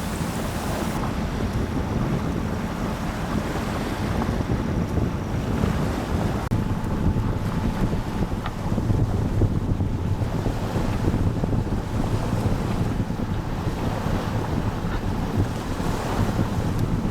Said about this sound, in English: Noisy back there with the motor running.